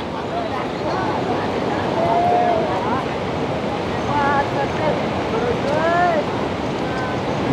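A steady, broad roar of rushing water from Barachukki waterfall at Shivanasamudra on the Kaveri, heard from a viewpoint amid hills, with wind buffeting and faint voices talking over it.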